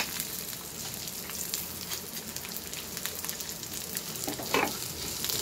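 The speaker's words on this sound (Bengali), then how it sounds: "পেঁয়াজ আর লঙ্কাটা ভেজে নেব আমি।" Onions and green chillies frying with whole fennel seeds in a pan, a steady soft crackling sizzle with scattered pops and one brief stirring scrape, close and fairly quiet.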